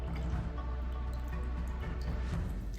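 Chicken broth, the cooking liquid from chicken and gizzards, is poured a little at a time into cornbread dressing, giving soft, quiet drips and wet squishing under a low, steady background hum.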